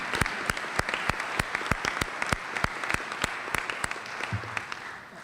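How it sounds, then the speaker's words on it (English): Applause from a gathering at the 2024 Florida Bar Convention comes as sharp, fairly sparse claps in a quick, even rhythm, moderately faint against a quiet room and tapering near the end. "I'd like to give them a round of applause"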